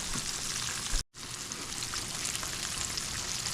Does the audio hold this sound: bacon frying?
yes